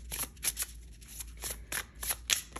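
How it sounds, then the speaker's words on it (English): Tarot card decks shuffled by hand in repeated quick riffling bursts, close and crisp, with short pauses between each pass and no talking. "I've already shuffled the decks, but I will do slightly more shuffling"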